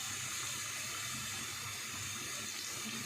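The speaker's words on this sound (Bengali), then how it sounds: "কারণ এখন তো এর মধ্যে জল পড়বে" Water pours steadily into a cooking pot holding green chillies and mustard oil, making a continuous, even hiss and splash that stays faint throughout with no pauses.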